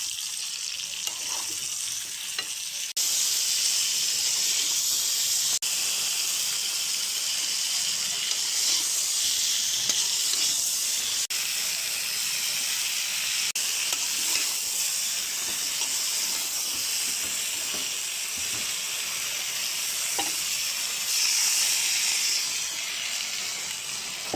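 Potato and eggplant pieces frying in a pan give a steady, close sizzle and hiss that runs the whole time, with occasional soft stirring scrapes and clicks over it.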